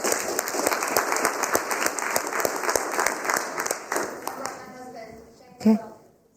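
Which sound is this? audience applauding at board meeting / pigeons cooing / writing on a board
audience applauding at board meeting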